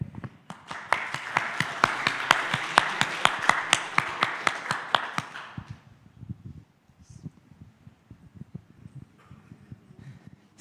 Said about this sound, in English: Big applause for Cedric and Zdeněk.